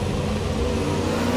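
A McLaren M8A race car engine at the 1968 Monterey Grand Prix drones steadily and loudly. The note is a thick, continuous roar with no break and no talk over it.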